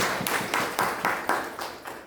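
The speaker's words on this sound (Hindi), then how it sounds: "तालियां बजाइए सब" Students in a classroom at a government postgraduate college in Baihar, Balaghat, clap together in a steady rhythmic beat, about eight sharp unified claps roughly a quarter second apart, fairly close and clear with no talking over them.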